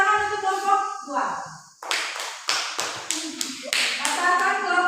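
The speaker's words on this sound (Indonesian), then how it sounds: "Oke, tepuk tangan untuk kelompok 2." Schoolchildren in a classroom clap for a group, a burst of quick, close claps and taps over about three seconds following a teacher's spoken cue, with voices at the start.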